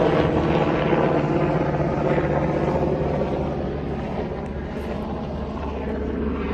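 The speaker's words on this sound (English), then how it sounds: "Helicopter." A helicopter drones overhead, its rotor chop and engine roar loud and steady, easing slightly as it passes.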